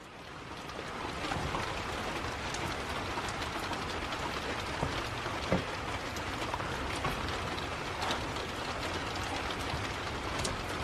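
Steady rain pours down outdoors, a dense, even hiss with scattered louder drops striking close by, continuous and fairly loud for the whole stretch.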